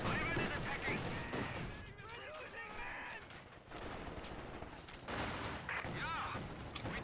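Machine gun fire in a Company of Heroes 2 battle, with sustained bursts of gunfire and battle noise running throughout beneath a commentator talking.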